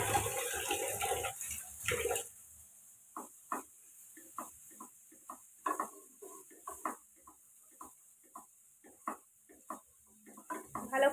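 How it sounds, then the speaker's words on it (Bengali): Water is poured and stirred into a mix of ground coriander and cumin, first a short steady pour, then a run of soft, irregular wet stirring and squelching sounds up close. "আর একটু আমি এবার এর মধ্যে আমি জল অ্যাড করে নেবো"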